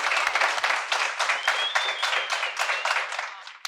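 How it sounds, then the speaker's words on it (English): An audience claps for basketball athletes, a close, rhythmic burst of applause with distinct repeated hand strikes and a thin whistle rising through the middle. "let's give these athletes a round of applause, y'all"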